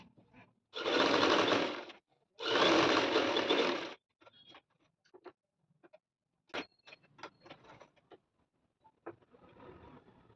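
A sewing machine stitches the side seam of a dress in two quick bursts of about one and a half seconds each, followed by faint clicks and handling noises.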